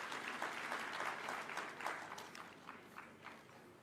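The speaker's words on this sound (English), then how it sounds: "Let's give him a clap as he's coming." Steady applause from a conference crowd in Eldoret, Kenya, welcoming a governor: a dense patter of many hands clapping that carries on throughout, gradually easing slightly toward the end.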